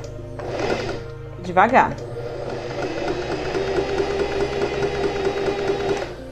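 A sewing machine runs without thread, starting with a couple of short bursts and then stitching steadily with a rhythmic mechanical whir, while someone speaks briefly over it.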